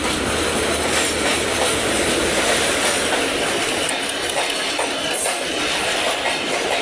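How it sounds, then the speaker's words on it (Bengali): A Dhaka train rushes past close by, a loud continuous roar with rattling wheels and clatter that never lets up. "ঢাকার ট্রেন"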